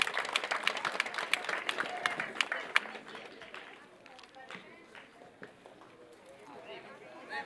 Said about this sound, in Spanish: Démonos un fuerte aplauso